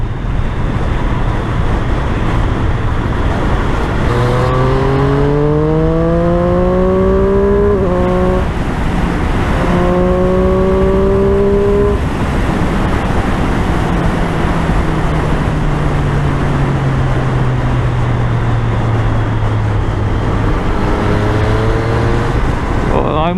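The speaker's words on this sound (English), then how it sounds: "I must say this street triple is really good at corners." A Triumph Street Triple motorcycle ridden on a breakfast ride toward Varkala, its engine rising and falling in pitch through gear changes and throttle, under steady loud wind roar at the helmet microphone.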